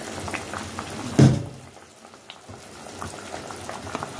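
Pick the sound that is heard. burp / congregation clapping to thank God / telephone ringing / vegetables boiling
vegetables boiling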